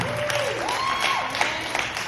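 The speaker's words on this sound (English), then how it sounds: "Please round of applause." A crowd at a poetry slam show applauding steadily, a dense wash of clapping hands, with a sustained whistle-like tone rising and falling over it.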